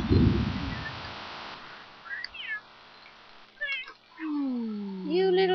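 Cat in the video game The Sims 3 gives several short meows followed by a longer, drawn-out wavering meow, clear and close over quiet game background sounds.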